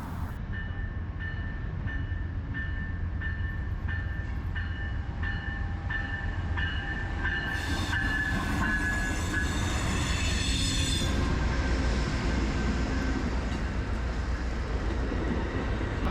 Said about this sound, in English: Kind of find this area interesting with all the trains